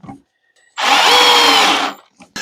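A power drill drives a screw into a cedar bench frame, one loud, close burst of whirring lasting about a second, with brief clicks before and after.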